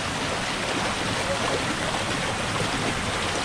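Natural spring water rushes at Unggat waterfalls, a dense, steady, close roar of flowing water with no breaks.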